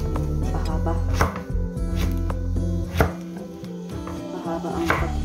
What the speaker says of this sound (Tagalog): Ganyan lang ang paghiwa natin. Pahaba.